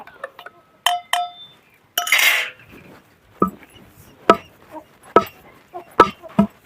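Curry leaf powder pounded with a pestle, sharp separate knocks and clinks at uneven intervals with a brief gritty scrape, close and fairly loud.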